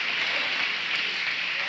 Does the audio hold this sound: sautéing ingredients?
no